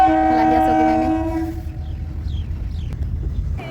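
A train at the Jamuguri railway level crossing near Golaghat sounds a loud, sustained horn for about a second and a half, then rolls on with a steady rumble, faint clatter and distant squeals.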